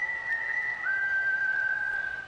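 Sustained high whistle at a ballpark during a Cardinals–Blue Jays game, holding one steady pitch then stepping slightly higher and continuing for about two seconds, moderately loud over faint background noise with no talk.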